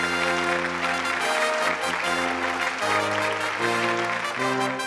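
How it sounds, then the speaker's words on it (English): Audience at a Dun & Bradstreet business awards event applauds steadily in a moderate wash of clapping, with music playing underneath throughout. "A big round of applause for both of them"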